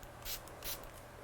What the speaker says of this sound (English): I'm going to spray it back with some water